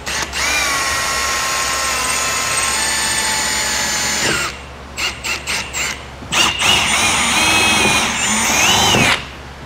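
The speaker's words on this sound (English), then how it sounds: "We're going to use a 3/16 drill bit to drill these out." A power drill with a 3/16 drill bit drills out rivets on the fascia of a 2020 Ford Explorer, a close whining spin for several seconds, then a string of short bursts and a final longer grinding run.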